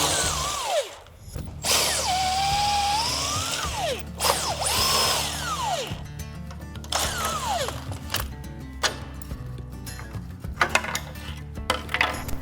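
Cordless power drill whirring in short, rising and falling bursts as it backs out screws from the rear guard of a treadmill, close and loud, followed by metallic clinks and small rattles of parts.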